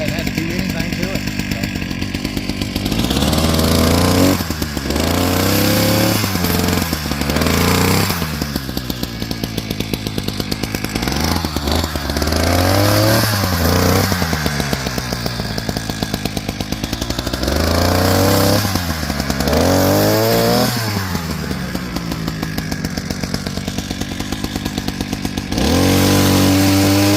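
A PROYAMA 42.7cc gas pole chainsaw with an unsharpened, out-of-the-box chain runs and cuts. The engine drones steadily, and its pitch bogs and rises in repeated swells as the chain bites into wood, close and loud throughout.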